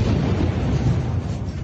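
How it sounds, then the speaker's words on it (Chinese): A large blast from a Russian double-tap bombing strike in Ukraine gives a heavy, sustained, loud roar and rumble that fills the whole moment before tapering slightly at the end. "然后再进行第二次更大的轰炸"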